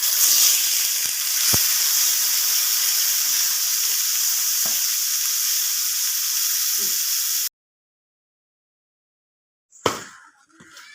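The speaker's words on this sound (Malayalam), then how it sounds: "ഇത് നമുക്ക് വറക്കാൻ വേണ്ടിയിട്ട് മസാല തേച്ച് വെച്ചിരിക്കുന്ന തിലോപ്പിയാണ്." Masala-coated tilapia fries in hot coconut oil in a pan, a loud, steady, close sizzle lasting several seconds before cutting out, followed by a brief clatter.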